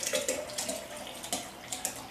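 Liquid is poured into a container while making yogurt, a quiet splashy trickle with a few brief gurgling bursts, close and alone.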